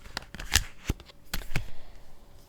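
Playing cards shuffled, handled and flipped over in a tarot-style reading, a run of close, crisp riffles and slaps with a few sharper snaps, clustered in quick bursts and then thinning out.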